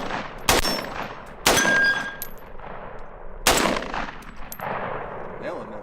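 Three loud, sharp 7.62 rifle shots ring out at irregular intervals, each followed by a metallic clang from steel targets 25 yards away, with quieter ringing between them outdoors.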